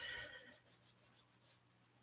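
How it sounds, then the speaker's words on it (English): Light sanding of the air tanks on an AMT Diamond Reo model truck chassis, a soft close rasping rub repeated in about eight quick even strokes before fading out. "So very light sanding on the air tanks."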